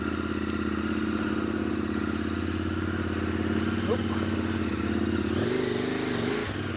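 A steady motorcycle engine hums close by as the rider eases off with careful clutch control, the pitch shifting near the end as the bike moves off.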